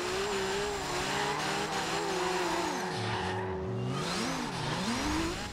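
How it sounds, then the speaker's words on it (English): A Nissan 240SX drift build sliding through corners in Forza Horizon 2, with continuous engine drone and wavering, pitch-bending tire squeal as the car slides, loud and steady with no talking. "I'm gonna get into some action drifting around La Belle Nice"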